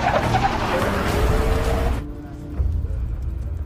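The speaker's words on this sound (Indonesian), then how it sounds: "Troll pun langsung mengejar mobil Nora." A car speeding in a chase in the film Troll (2022): a loud engine roaring at speed with tire noise, cutting off abruptly, then a quieter rumbling motor continuing.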